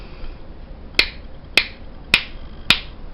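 A hair flat iron being clamped shut, four sharp plasticky clicks evenly spaced about half a second apart, close and distinct against a quiet background, with a light, flimsy snap to each one.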